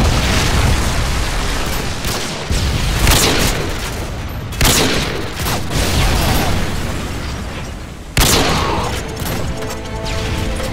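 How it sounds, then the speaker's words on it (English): Predator missile strikes in a first-person shooter team deathmatch, heavy booming explosions with rumbling debris, several loud blasts in a row that fill the scene with dense roaring noise. "Friendly Predator missile inbound."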